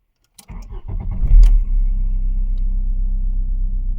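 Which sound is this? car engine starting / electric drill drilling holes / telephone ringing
car engine starting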